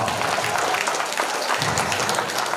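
Audience applause at a live stage performance, a steady wash of clapping from a seated crowd that fills the whole short stretch without pause.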